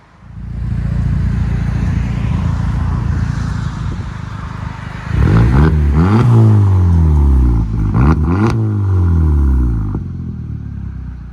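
A straight-piped 2016 VW CC 2.0L turbo idles with a raspy drone, then blips up in several sharp revs with crackling pops as the throttle closes; loud and close, no talking.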